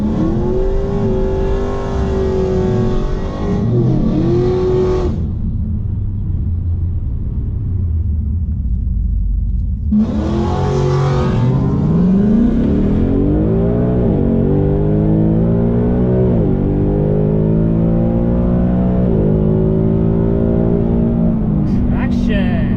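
A Ford Mustang launches down a drag strip with traction control off, its engine roaring loudly and climbing through the gears, with a pause at a shift before the engine revs again in a steady rising drone.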